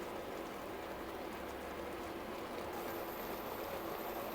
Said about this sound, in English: And that's boiling